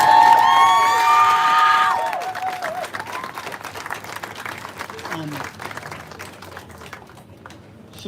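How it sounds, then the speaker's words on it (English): Applause and scattered cheers from a crowd at a street protest against brutality, loud at first under a voice, then thinning into lighter, more distant clapping and chatter. "So give these guys a round of applause too"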